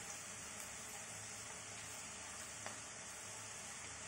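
Onions frying in a pan for Kolkata-style chicken biryani give a faint, steady, even sizzle with a soft stir or tap, no voices.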